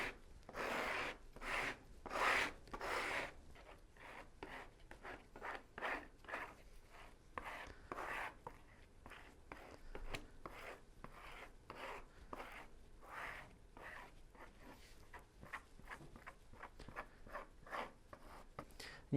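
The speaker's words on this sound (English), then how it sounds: "You can see how evenly this distributes the thickened mixed epoxy." Notched spreader dragged through thickened epoxy adhesive on wooden boat laminates, repeated close scraping strokes in an irregular rhythm, some faster and some slower, fairly quiet with no speech.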